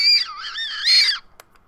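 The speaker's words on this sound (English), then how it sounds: "Oh, it actually whistles." Whistle candy from a Japanese snack crate blown into a shrill, wavering whistle for about a second, close and loud, followed by a brief click.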